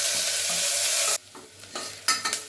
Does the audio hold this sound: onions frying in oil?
yes